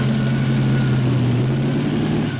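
Chevy S10 truck fitted with nitrous, its engine running steadily at a low idle drone close by, with no speech over it.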